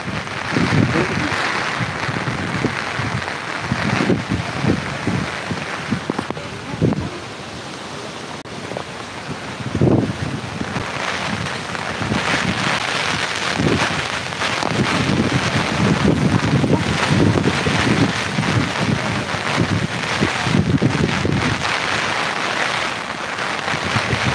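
Heavy rain and strong wind batter a boat in a steady, loud roar of rushing noise with gusty buffeting against the microphone, continuous throughout, and faint voices occasionally audible beneath it.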